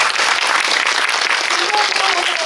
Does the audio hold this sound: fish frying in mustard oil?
no